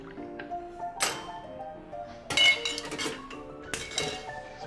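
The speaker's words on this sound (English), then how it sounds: "So give that a stir." A spoon stirs a strong vodka drink in a glass, giving bright scattered clinks and taps against the sides in irregular clusters, close and clear with no voices.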